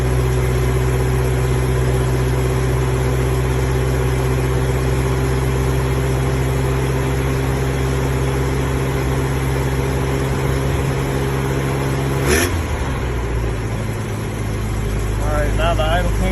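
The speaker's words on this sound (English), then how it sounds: "it'll sit in high idle for about 30 seconds" A 1981 Toyota pickup engine sits at a steady high idle after a cold start, a loud constant droning hum with a brief rise in the revs near the end, and someone talking over it.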